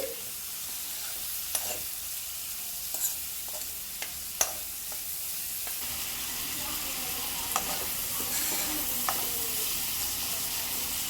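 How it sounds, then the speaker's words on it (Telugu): Small prawn pieces sizzle steadily in a hot pan, with a continuous hiss of frying broken by a handful of sharp scrapes and taps as they are stirred. "ఎక్కువసేపు ఫ్రై చేయాల్సిన అవసరం లేదండి కొంచెంగా ఫ్రై చేస్తే సరిపోతుంది"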